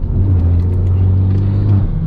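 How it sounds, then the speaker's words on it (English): Deep steady exhaust drone from a BMW M140i fitted with prototype parts, a loud, close, continuous low rumble with slight revving swells; no distinct pops or bangs stand out. "when you build up the boost and the bangs are louder as well now"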